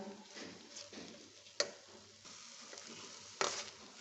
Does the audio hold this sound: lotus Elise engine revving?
no